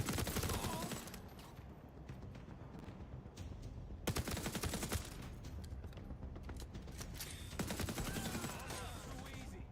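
Sustained bursts of automatic gunfire crackle through a video game firefight, dense and continuous with brief lulls, surging again around the midpoint and near the end.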